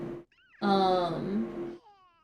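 A game cat meows in a long, drawn-out harmonic cry, close and clear, after a short earlier chirp, with faint trailing mews at the end and no talk over it.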